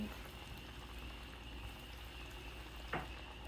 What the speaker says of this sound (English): Fry up some catfish and buffalo. Using an old rocket stove.